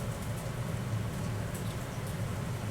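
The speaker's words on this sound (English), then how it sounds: "We're going to drop those carrots in first and get a good, nice little sizzle." Carrots sizzle in a hot pan with a continuous crackling hiss that stays even and moderately quiet throughout, with no voices over it.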